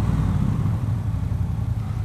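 Triumph Bobber motorcycle being ridden, heard as a steady, loud engine and road rumble that holds without a break, with no talking over it.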